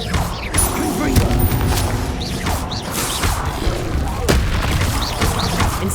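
Booming explosive blasts from the Confringo spell in the video game Hogwarts Legacy, loud and dense, layered with rumbling battle effects and repeated impacts over several seconds.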